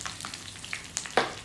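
Mustard seeds, sesame seeds, green chillies and curry leaves sizzle in hot oil for a dhokla tempering, a soft crackling fry with a few sharp pops, the loudest burst near the end, close and alone.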